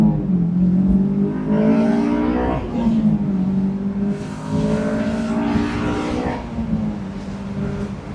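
A Honda S2000 manual sports car engine revs up and drops back between gears several times, a loud continuous close-up drone with rising and falling pitch.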